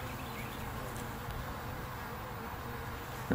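Honey bees hum in a soft, steady buzz during a hive inspection, a continuous faint drone with no clear breaks or voices.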